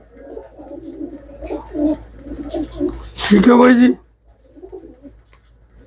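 Someone talks briefly, then a pigeon gives a loud, close coo lasting under a second, followed by faint murmuring.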